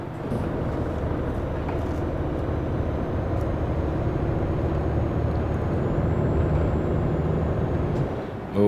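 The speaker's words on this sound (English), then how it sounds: "just driving around the countryside in a truck" A truck rolls through open countryside in Euro Truck Simulator 2, its engine giving a steady, dense rumble that stays loud and even throughout and ends with a brief louder burst at the very end.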